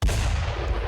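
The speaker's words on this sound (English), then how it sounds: "Let's throw another mortar shot." A mortar fires in the video game Burden of Command, a single loud, booming blast with a heavy low-end rumble that carries on for the whole short moment, with no voices.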